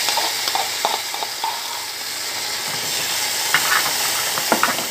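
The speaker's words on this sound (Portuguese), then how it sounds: "Tá fritando aqui" Garlic and chili pepper frying in a pan with a steady, close sizzle and hiss, broken by occasional light scrapes and pops from stirring.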